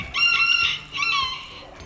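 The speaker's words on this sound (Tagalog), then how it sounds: "Active yung mga manok natin ngayon." Backyard chickens near a home kitchen, with a rooster's loud, close crow stretched over two long calls and hens clucking faintly underneath.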